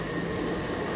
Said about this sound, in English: So there's another train coming in from Hexham.